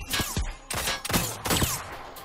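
A P-12K in Rogue Company fires a rapid string of four or five loud, sharp shots in close succession, each cracking and then quickly decaying.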